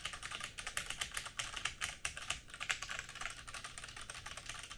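Fingers type steadily on a Rosewill RK9000 V2 mechanical keyboard fitted with Cherry MX Brown switches and aftermarket keycaps, producing a rapid, even stream of close, crisp key clicks.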